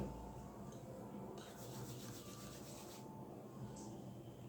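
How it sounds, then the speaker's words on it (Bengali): Rice flour pitha dumplings rubbed between the palms give a steady, soft dry friction, close and continuous, with no voices. "এই পিঠাগুলো হাতের মধ্যে নিয়ে একটুখানি ঘষে নেবেন"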